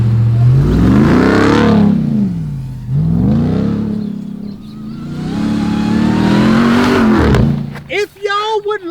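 A supercharged 6.2-liter Dodge Ram TRX pickup engine revs loudly in long rising and falling sweeps, close by, with a voice talking over it near the end.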